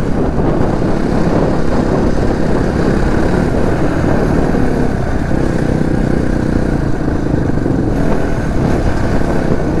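Crossfire 450 motorcycle, a 450 cc bike rated at 42 bhp, running loud and close with a continuous engine drone and slight rises in revs, and no talking.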